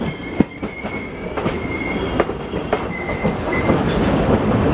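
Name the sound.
express passenger train running on rails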